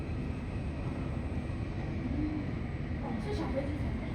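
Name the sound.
small airplane taking off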